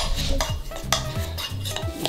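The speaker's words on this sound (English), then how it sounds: "I think this one needs a little bit more stirring." A spoon scrapes and clinks around a bowl of red, black and green waffle batter for Mario mushroom waffles, with steady repeated stirring strokes close up and no talking.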